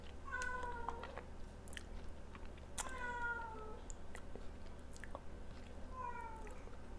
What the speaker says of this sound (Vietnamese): Chú mèo meo meo meo.